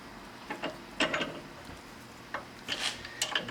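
A power steering line fitting clamped in a vise is tightened with a wrench to crush its sleeve, producing short grinding, ratcheting metal scrapes in uneven bursts, close and fairly loud.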